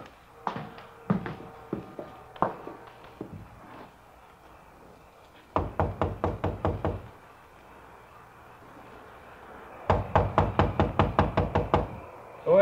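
Firm knuckle raps on a door in a radio drama: scattered single knocks, then two rapid runs of about eight loud, close blows each, separated by quiet.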